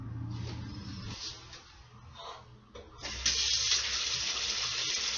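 Tap water running into a kitchen sink during washing up, starting faintly and intermittently, then a loud, steady close gush of running water for the final seconds.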